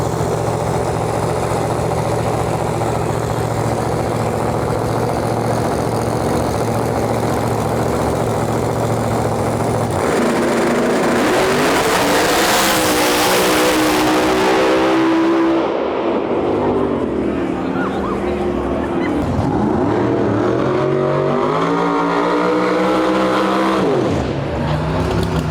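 A racer's race car rolls up to the starting line at a race track: a loud, rough engine idles, then revs in rising and falling surges, with voices talking over it.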